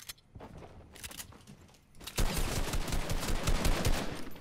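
Gunfire in the game Fortnite. Quiet scattered shots come first, then a loud, continuous rapid burst begins partway through and holds steady to the end.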